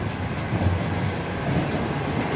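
Passenger train on the Ternopil–Kyiv route heard from inside a crowded carriage: a steady low rumble and rolling hum with faint rhythmic rattles, continuous throughout with no talking.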